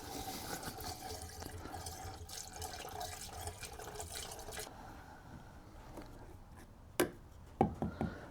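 Coolant trickling and splashing as it is poured into a Jeep Cherokee's cooling system, a steady liquid wash with a few sharper drips and splashes near the end.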